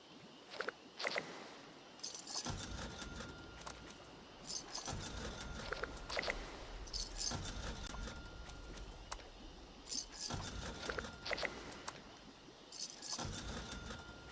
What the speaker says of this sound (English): I'm using the keyboard arrows, by the way, to move that to the left and then hitting spacebar